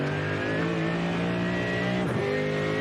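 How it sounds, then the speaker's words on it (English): A race car engine in a sim-racing game holds a loud, steady roar, then dips and rises again through a gear change, the pitch climbing on exit from a corner at the Nürburgring. "Listen to the engine rise up"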